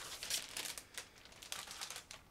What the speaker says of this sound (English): You can hear that I'm taking everything out of the plastic bag.